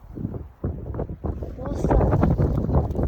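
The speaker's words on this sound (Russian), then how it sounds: "Ветер." Strong wind roaring during a blizzard in Belarus, a steady broadband rush with gusts building louder toward the end, buffeting the microphone, while a person talks over it.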